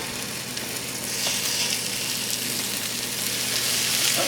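Lamb chops searing in a hot pan give a loud, steady close-up sizzle that holds evenly throughout, with no talking.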